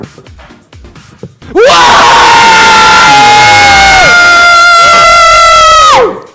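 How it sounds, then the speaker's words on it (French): A crowd at a live show erupts into loud, sustained shouting and cheering for over four seconds, with shrill screams on top, cutting off abruptly after quieter murmuring beforehand. "On va voir lequel des côtés fait le plus de bruit."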